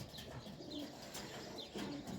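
Pigeons coo softly in a few short, low, rounded calls, faint and somewhat distant, with no speech present.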